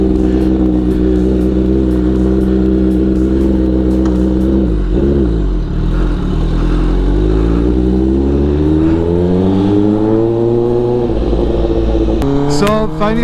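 A motorcycle engine idling after a cold start and then revving hard, loud and close. The pitch climbs and falls through repeated throttle blips, with a sharp burst near the end.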